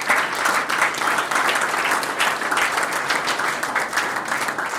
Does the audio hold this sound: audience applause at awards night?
yes